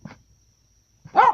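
A dog outdoors in a garden gives a short soft yip, then after a pause of nearly a second lets out one louder, clear bark nearby.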